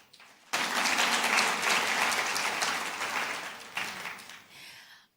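Audience applause at a women's business conference bursts in suddenly, a thick crowd of clapping hands that gradually thins, surges briefly once more, then stops abruptly.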